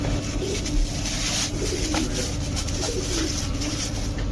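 Dense, continuous cooing of many pigeons nearby, a low rolling murmur with occasional louder calls standing out.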